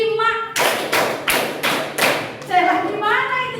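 A group claps five times in a steady rhythm, with sharp, loud, evenly spaced hand claps and a voice heard before and after.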